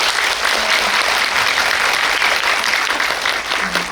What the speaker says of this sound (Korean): 박수 한 번만 보내주세요.